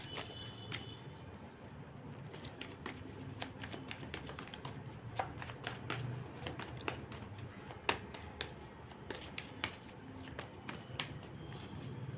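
Tarot cards being shuffled and handled close by, a steady run of soft papery flicks and snaps with no talking.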